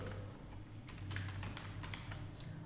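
Rapid, fairly quiet keystrokes on a computer keyboard as text is typed, an uneven run of light taps over a low steady hum.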